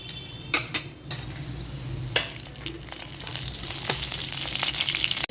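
Nigella seeds and fish fry in hot oil, a close sizzle that starts with a few sharp clinks and spatters and then swells into a dense, loud, continuous crackle, with no voices.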